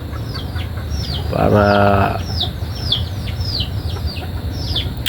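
Game-farm chickens cluck in a steady stream around a nearby speaker, with a louder drawn-out rooster-like call in the middle and outdoor noise throughout.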